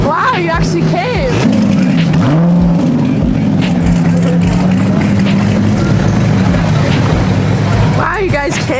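A Koenigsegg CCX supercar rumbles close by, its deep engine note swelling and easing as it rolls up, loud and steady, while people talk over it briefly at the start and end.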